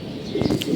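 A racing pigeon gives one short, soft throaty coo up close against a quiet background, lasting under a second.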